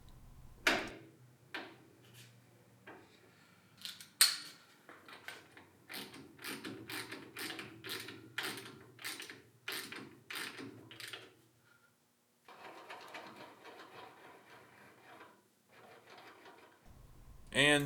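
The threading stop mechanism on a Rockwell lathe is flipped into the hand wheel, giving a run of close, rhythmic mechanical clicks and ratcheting ticks, then a quieter rattling stretch.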